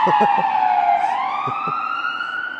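A loud fire truck and ambulance siren wails with a long falling then rising sweep, close by, with a few short low thumps underneath.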